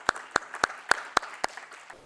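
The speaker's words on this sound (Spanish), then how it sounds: "Por favor, un aplauso para Máximo Torero." A few sparse, evenly spaced claps ring out close by, about seven sharp hand claps in a quiet room, welcoming speaker Máximo Torero at a talk on the future of food.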